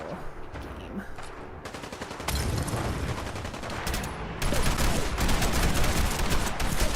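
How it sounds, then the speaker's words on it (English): Gunfire in the Fallout 4 video game comes as dense bursts of rapid shots that grow louder partway through and stay heavy to the end, with faint game sounds under it. "I was like, who's shooting at me?"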